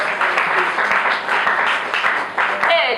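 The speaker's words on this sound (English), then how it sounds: "A round of applause for you" Audience applause at an International Women's Day celebration, loud and sustained, with dense clapping in rolling waves and a few sharper individual claps standing out.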